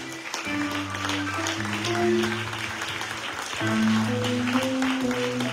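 At a school graduation ceremony, the audience warmly applauds the school staff with steady, close, full clapping that swells again toward the end, and a low tonal hum lies underneath.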